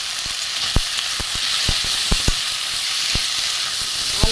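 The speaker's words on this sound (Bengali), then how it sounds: "ভালো করে এটা কষে নেবো।" A spice mixture of turmeric, chili and cumin powder with a pinch of salt sautés in light oil in a pan, hissing evenly up close while a spatula taps and scrapes at irregular intervals.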